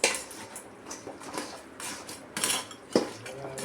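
Crab fry is stirred in a pan, with a spoon scraping and clinking against the metal in short, uneven strokes close by.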